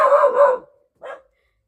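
A dog barks outdoors in rural Laos or Thailand: a sustained bark, a pause, then one shorter bark, fairly close and loud, with no talking.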